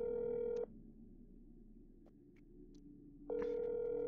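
Phone tones in the video game That's not my Neighbor: a loud dialing or ringing tone sounds for over half a second and stops. A quiet pause with faint clicks follows, then the tone starts again and continues.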